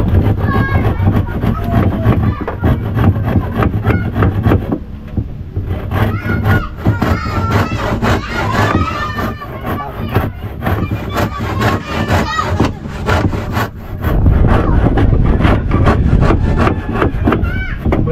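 A hand saw cutting wood on a building site, steady rhythmic rasping strokes continuing throughout, close and loud, with workers' voices now and then under the sawing.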